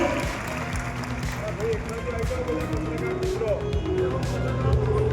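A crowd applauds at a government ceremony at a high school in Borsad, a steady wash of clapping under a busy hall with some talking mixed in.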